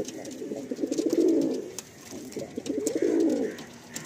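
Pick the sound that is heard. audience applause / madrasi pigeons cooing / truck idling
madrasi pigeons cooing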